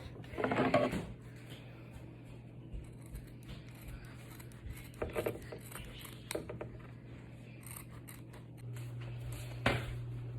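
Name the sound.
scissors cutting Levi's jeans hem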